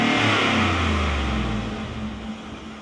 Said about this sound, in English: And now let's rev it up.